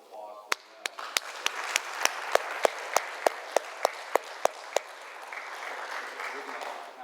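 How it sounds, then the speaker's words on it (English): Applause swells in a lecture hall after a history talk, with one close clapper's sharp, evenly spaced claps standing out over the broader crowd for several seconds before the clapping fades into murmuring. "If we can give a round of applause for them."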